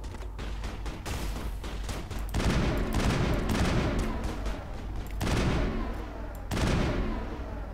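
Rapid bursts of gunfire in the Mass Effect video game crackle in several dense volleys, loud and close, with brief lulls between heavy clusters of shots.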